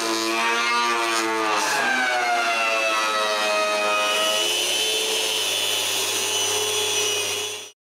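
Power tool surfacing a thick piece of walnut: a loud, continuous high-pitched whine with a shifting tone, close and running alone before cutting off abruptly.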